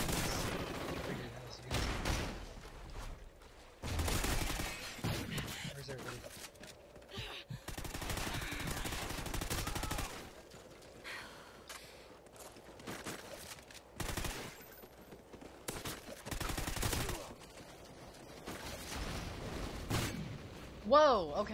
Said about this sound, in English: he used a shotgun